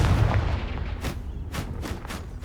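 Confringo fire spell blasts in Hogwarts Legacy on PS5: several sharp, loud bursts land about half a second apart over a steady low rumble of game ambience.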